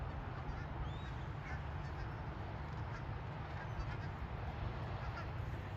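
A female duck quacks at a migratory waterfowl refuge, faint and somewhat distant over a steady outdoor hum, with scattered honking calls from other waterfowl.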